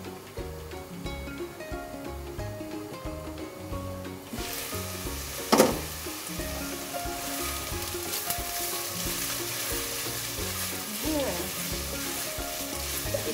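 Two medium onions sizzle steadily in hot oil in a pan as they fry toward golden brown. A loud, continuous crackle sets in after a quieter start, with a sharp burst and occasional stirring, and music plays underneath.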